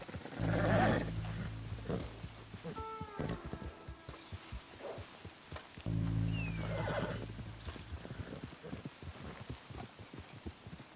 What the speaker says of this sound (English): You got a problem with that horse?